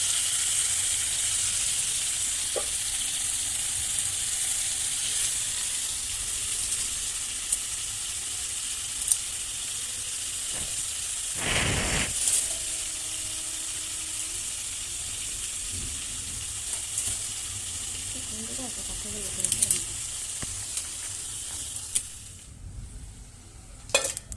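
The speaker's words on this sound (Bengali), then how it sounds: "এটা ভালো করে আগে ভাজা করবো।" Crab pieces fry in a pan in a small home kitchen, giving a steady low sizzle with occasional stirring scrapes and a brief louder burst midway, with no talking.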